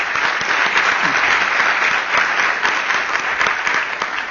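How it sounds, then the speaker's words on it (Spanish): Sustained applause from a conference audience, a thick wash of many hands clapping at an even level from start to finish, close and loud. "Un aplauso."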